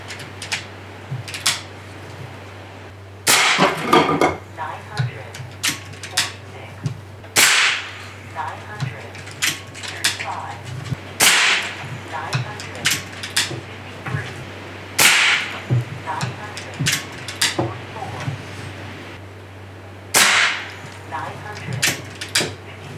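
An AEA Challenger Pro air rifle fires H&N 40 grain slugs in a backyard, each shot a sharp, loud crack followed by a short impact, repeated at irregular intervals over a steady low hum.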